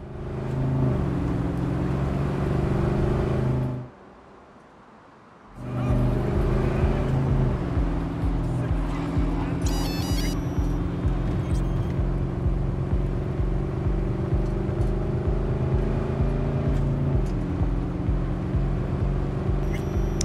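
A car engine in the video game Cyberpunk 2077 drones with a steady low rumble, briefly cutting out before resuming at a constant loud level, with small pitch shifts as it drives.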